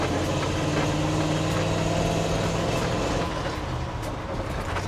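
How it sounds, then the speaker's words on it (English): A 1953 Ford F100 pickup's flathead Ford V8 runs steadily, a low, even engine drone heard from inside the cab while driving, holding constant throughout with no voices over it. "the radio is the actual noise of the engine"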